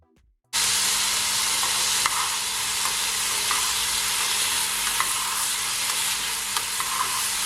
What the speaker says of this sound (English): So now I'm gonna add my mixed vegetable.